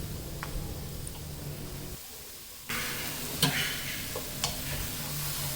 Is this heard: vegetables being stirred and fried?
yes